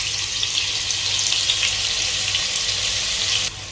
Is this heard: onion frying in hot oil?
yes